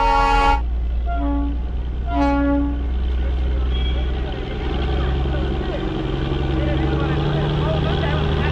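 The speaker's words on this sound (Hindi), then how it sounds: "हॉर्न क्या चला लगे टॉय ट्रेन" The Darjeeling toy train sounds its horn, two short loud toots near the start over a steady rumbling engine and background noise.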